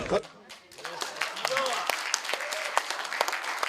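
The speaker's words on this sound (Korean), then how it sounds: "힘찬 박수 부탁드리겠습니다" An audience at a Korean lecture gathering gives a round of applause, a crisp, busy patter of many hands heard fairly close, with a voice speaking over the clapping throughout.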